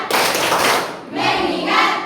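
A classroom of students claps the rhythmic tepuk fokus routine in two quick bursts of close, loud handclapping, with no talk over it.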